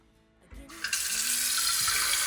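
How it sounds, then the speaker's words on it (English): Tap water gushes into the carafe of a drip coffee maker, starting suddenly after a quiet moment and then streaming steadily and close. "So I'm going to fill that up with water now."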